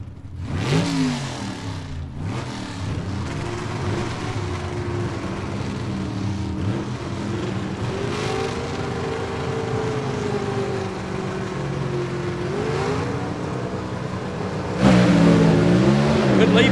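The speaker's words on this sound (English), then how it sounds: "Those cars with Gene Fulton power underneath the hood" Drag racing gasser cars in C/Gas eliminations at a Southeast Gassers Association event, Gene Fulton engines, roar and rev steadily down the strip, loud throughout and rising sharply near the end, with a commentator talking over them.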